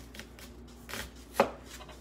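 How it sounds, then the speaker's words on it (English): Onions being chopped with a knife on a board: a few soft, irregular cuts with one sharper, louder chop near the end, heard alone without talk. "Chopping me some onions, yes I'm chopping me some onions."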